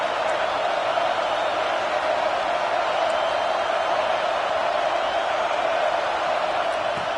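A dense, steady roar from a football stadium crowd at a Florida vs Florida State game, loud and continuous with no distinct voices standing out.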